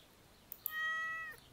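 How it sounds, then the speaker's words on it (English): A single short, faint meow from a cat in Stardew Valley, preceded by a couple of tiny clicks, in otherwise quiet surroundings. "You lazy cat."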